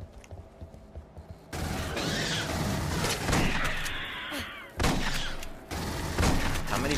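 Gunfire in the Aliens: Colonial Marines video game, a long stretch of sustained automatic bursts with metallic mechanical clatter and booms, loud and dense, broken by brief pauses and a sharp cut near the end.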